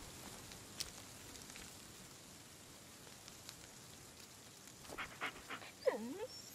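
A dog whimpers in the Blair Witch video game, a few faint high whines near the end over soft rain-like background ambience.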